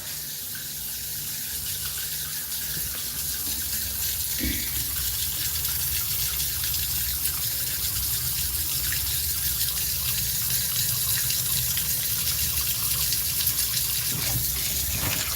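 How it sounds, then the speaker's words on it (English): Water pours steadily into a pot of maize being bulk-cooked, a constant close gushing rush that lasts throughout with no talk. "So we're going to add water."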